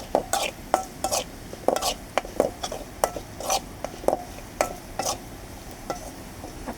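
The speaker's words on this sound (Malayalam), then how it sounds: "ഒന്ന് ഇളക്കി വെച്ചേക്കാം." A spoon stirs curry in a pot with a steady run of scraping, clinking strokes. The strokes come close and clear at an uneven rhythm, with no voices.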